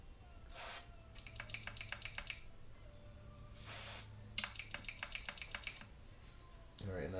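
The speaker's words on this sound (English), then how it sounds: "we're just going to spray this in here, work it back and forth" Contact cleaner hisses from an aerosol can in two short sprays onto guitar potentiometers, each followed by rapid clicking as the pot is worked back and forth, close and quiet.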